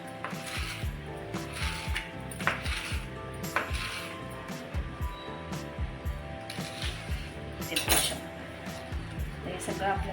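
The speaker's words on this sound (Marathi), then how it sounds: "त्यासाठी पहिली मी अशी कट्स मारून घेते" A knife chops rolled taro leaves finely on a board, making quick repeated thuds and taps in an uneven rhythm, close and fairly loud, while someone speaks over the cutting.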